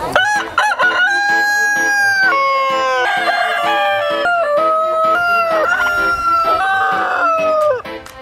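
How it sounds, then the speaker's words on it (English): Several roosters crow loudly one after another, long drawn-out calls overlapping with hardly a pause, close by. "Why don't people want roosters? They're too noisy for suburbia"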